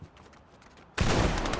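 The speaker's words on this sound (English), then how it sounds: "Let's see if we hear shooting" Sudden dense burst of gunfire in a video game, loud and continuous after a quieter stretch of faint ambient sound.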